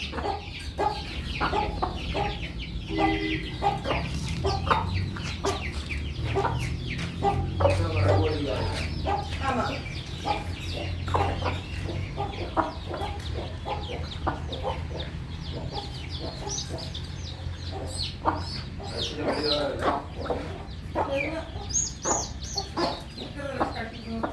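Chickens cluck repeatedly at close range, a busy, uneven run of short clucks and calls over quiet farmyard background.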